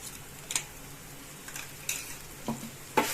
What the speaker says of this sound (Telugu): ఇంకా కొబ్బరి చక్కగా వేగిపోయింది కదండి